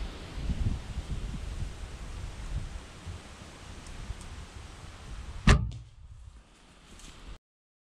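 A hunting bow looses an arrow at a rusa deer outdoors, one sharp, loud release snap cutting through steady rustling ambience before the scene drops to near silence.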